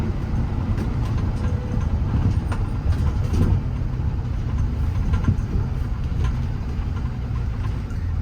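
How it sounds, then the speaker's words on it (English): A 2019 Kenworth T270 truck with a PX7 engine on the road, its diesel drone steady and close, with wind and road rumble over the whole stretch. "Plenty of power, shifts through the gears smooth, rides nicely down the road."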